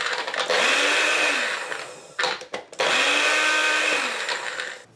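A food processor pulses roasted red pepper hummus ingredients with garlic, olive oil and salt, running as two loud whirring bursts split by a short choppy break before spinning down.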